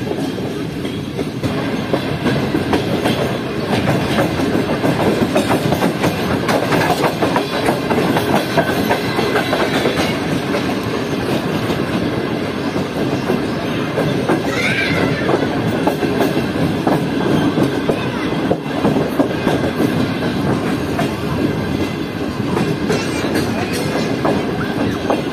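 The Karachi Express runs along the track at a slow, cautioned speed, a loud continuous rumble with rhythmic wheel clatter and rattling carriages heard from on board.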